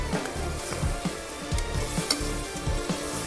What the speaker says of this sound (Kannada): ಎಲ್ಲ ಈ ಮಸಾಲೆ ಜೊತೆ ಕ್ಲೀನಾಗಿ ಮಿಕ್ಸ್ ಆಗಬೇಕು